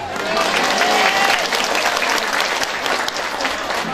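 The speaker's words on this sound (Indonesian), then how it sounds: "Tepuk tangan" Crowd applause at a village community event with police, a full, continuous round of clapping close by, with some voices and cheering mixed in throughout.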